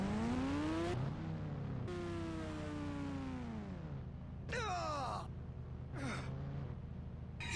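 Motorbike engine in a 3D video game, revving up and down in several rising and falling sweeps, with a steady low drone underneath and brief sharp shifts between throttle bursts, fairly close and continuous.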